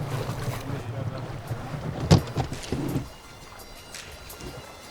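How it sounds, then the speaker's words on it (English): Strong wind gusting across open water while fishing from a boat, buffeting the microphone with a rumbling roar and a sharp bump midway before easing into a quieter steady hiss. "It's very, very windy."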